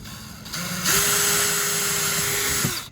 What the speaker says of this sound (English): I'm going to drill all 6 holes